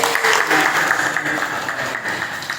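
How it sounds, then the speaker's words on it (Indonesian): Audience at an Indonesian church workshop event gives a warm, continuous round of applause, loud and dense from start to finish. "Kita kasih tepuk tangan yang berjuang."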